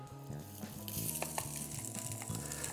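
Diced prosciutto sizzles and crackles steadily in a hot pan, a continuous close frying hiss with occasional louder pops and a low background hum, with no talking.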